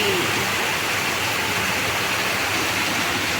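Heavy monsoon rain pouring down outdoors, a dense, continuous, loud hiss of falling water with no breaks, filling the whole moment evenly.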